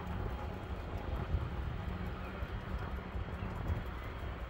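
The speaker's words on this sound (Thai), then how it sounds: "ฟังเสียงลมเป็นเสียงเพลงนะคะทุกคน" Steady wind buffeting and rumbling, with low gusty roar filling the whole stretch and no clear voices.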